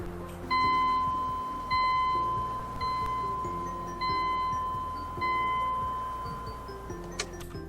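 A GM EV1 electric car in the Roblox game Greenville gives off a steady high electronic tone, with repeated soft beeping pulses and low hum roughly every 1.2 seconds, fairly loud and close, with no talking.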